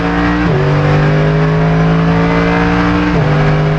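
Mercedes AMG GT3 race car at full throttle out of a chicane at Monza, a loud, sustained in-car engine roar climbing in pitch, with two quick upshift drops where the note falls before rising again.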